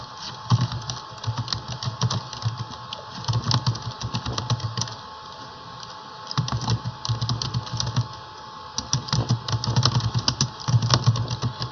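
Rapid clicking keystrokes on a computer keyboard while entering text and pressing tab in Microsoft Word, coming in close, steady bursts separated by brief pauses, with no one speaking.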